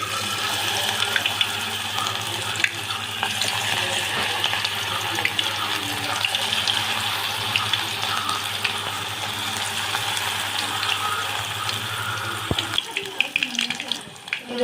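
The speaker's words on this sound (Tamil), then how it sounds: "இப்போ எண்ணெய் காஞ்சோடனே கடாயில் போட்டு வறுத்துக்கலாம்." Onion bonda fry in hot oil in a kadai, giving a steady, dense sizzle that runs close and loud without pause for most of the clip and then thins out near the end.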